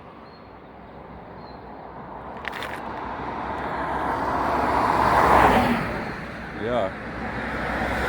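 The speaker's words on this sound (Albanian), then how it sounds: "Ja si vjen lumi i makinave, lart e poshtë" Road traffic on a motorway near the turnoff to Rubik, Albania, with vehicles streaming both ways; a steady broadband roar builds as a car passes close around the middle, with a brief spoken word and a faint chirp near the end.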